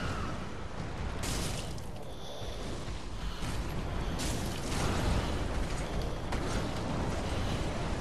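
Fireball spells exploding during a Dark Souls 3 boss fight against Iudex Gundyr, a steady roar of bursts and impacts running throughout, with crackling flares near the middle and end.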